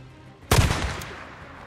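A single sharp gunshot cracks out in the zombie video game Days Gone, close and loud, with a brief echoing decay afterward.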